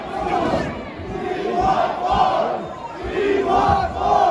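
A wrestling crowd at an independent show roars and chants loudly for Hardcore Michael Moore in his match against Massive Damage, a dense, swelling wall of voices rising and falling in rhythmic bursts.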